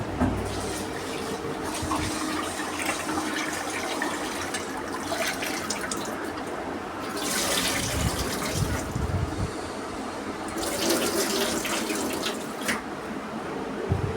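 Ration rice being washed under running tap water, a continuous splashing stream close by with swishing surges as the grains are stirred, no voices.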